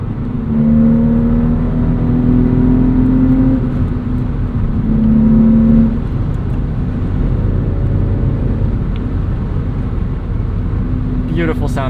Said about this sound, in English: Beautiful sounding engine.